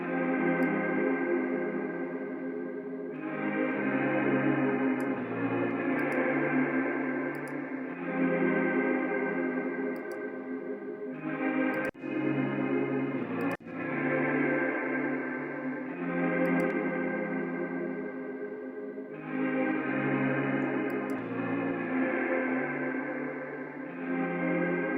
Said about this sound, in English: So I'm going to keep the wet signal all the way up so I can just listen to the reverb